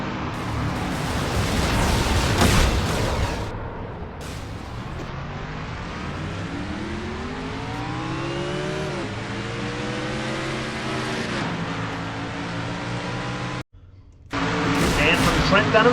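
Stock race car engines scream from an in-car camera during a crash, with a rough impact burst early, then a sustained rising and shifting engine drone, a brief cut, and the roar returning. A commentator speaks over it.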